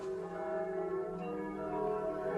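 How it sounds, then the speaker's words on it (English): Church bells ring steadily for Vespers, a sustained overlapping metallic hum heard from indoors with no talk, continuous and fairly even in loudness throughout. "I'm sick of the sound of bells."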